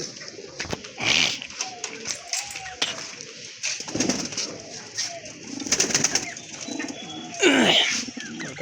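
Soft pigeon coos sound repeatedly over a continuous chatter of other birds, with occasional wing flaps and a voice speaking intermittently nearby in a busy pigeon collection.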